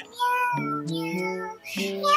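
A person imitates a cat's meow as a lullaby, voicing a few drawn-out, wavering meows in a row, close and fairly loud, with no ordinary speech.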